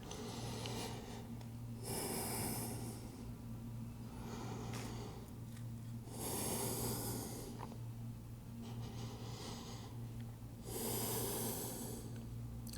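Deep, slow yoga breathing during an Ashtanga led primary series: three long, airy breaths, each swelling loudly and close then fading, spaced about four seconds apart, with no talking.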